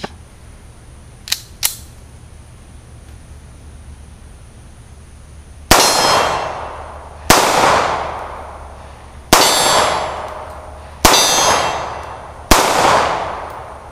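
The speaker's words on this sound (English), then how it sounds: "had one malfunction, went through 20 rounds, so that's a hell of a lot better than the brass case ammunition through this thing" Star BM 9mm pistol firing aluminum-case FMJ rounds: five loud, sharp shots spaced about a second or two apart, each with a ringing decay, preceded by two faint metallic clicks and no talking.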